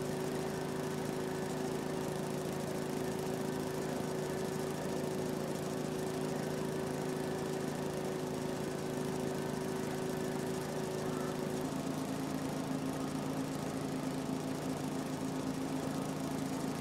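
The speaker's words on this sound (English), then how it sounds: "This is a new lawnmower" A lawnmower engine from Farming Simulator 22 drones steadily at a constant pitch, close and continuous, with a slight shift in tone partway through and no speech.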